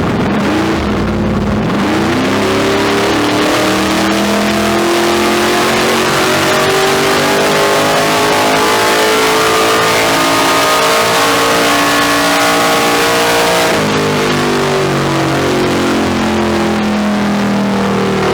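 Carbureted race engine on a dyno with nitrous, held at a loud sustained roar as it pulls up through the revs, then drops off sharply near the end, close and alone.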